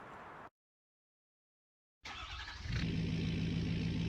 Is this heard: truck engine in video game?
yes